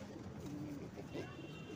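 Pigeons coo softly inside a pigeon loft, with a few short, low throaty calls set against a hushed, noisy background and no voices.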